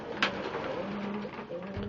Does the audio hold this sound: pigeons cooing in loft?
yes